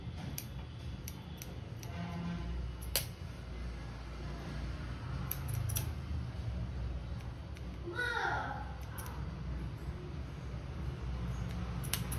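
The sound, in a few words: scissors trimming a moustache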